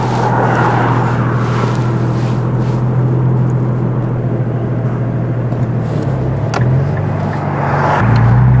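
A Nissan GT-R R35 engine idles while warming up on its first start of the year, a steady low rumble heard from inside the car, continuous and fairly loud, with a faint shift in tone near the end.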